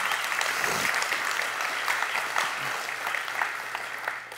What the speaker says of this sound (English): I think it's time for some clapping.